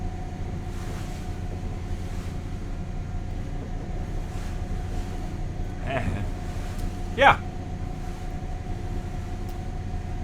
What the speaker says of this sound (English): now we run on starboard engine